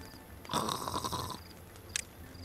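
Beavers snore in the building game Timberborn, one soft, drawn-out rasping snore lasting about a second, followed by a brief faint snort over quiet background ambience.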